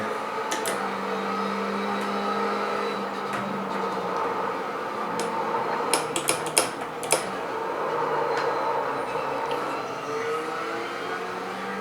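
A Ferrari 488 GTE engine runs in the iRacing sim at Sonoma Raceway, a steady moderate drone as the throttle comes on early, with a few sharp clicks partway through and no talk.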